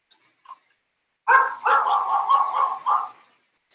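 A dog barks in a played listing video from suburban Denver, a short run of close, loud yips and barks clustered together over about a second and a half, with brief quiet before and after.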